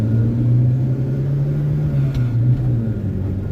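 A 1978 Honda Civic engine drones steadily from inside the moving car, a low continuous rumble that holds even throughout with a faint pitch waver.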